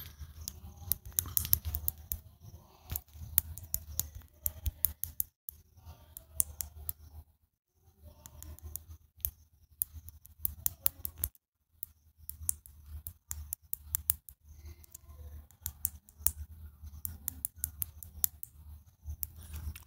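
Rapid light clicks of typing a short text post on a phone or keyboard, quiet and close, in irregular bursts with brief pauses and no talk.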